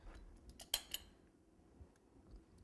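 Scissors snipping material while a Valentine's Day topsy-turvy stacked gift box cake is decorated: a couple of quick, faint metallic clicks close by, then quiet handling noise.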